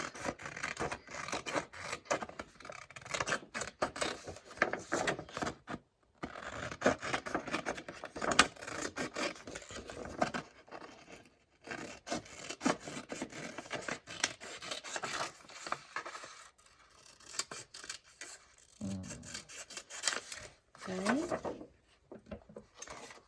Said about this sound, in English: I was going to tear it, but I think let's cut it.